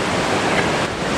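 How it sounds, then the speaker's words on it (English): Stormy sea waves crashing over a jetty, a steady broad roar of surf and spray with wind, loud and close, and no voices. "stormy weather with the waves crashing over the jetty"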